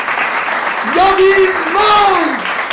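A church congregation at an Urdu service in Sohar, Oman claps in a soft, rapid patter while a voice calls out a long, rising and falling exclamation over it.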